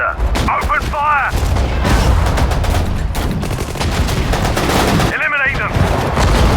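Dense gunfire and explosions from the WWII strategy game Sudden Strike 4, set in the North African desert at El Alamein, with continuous loud rattling bursts and booms, plus short in-game voice callouts over the battle.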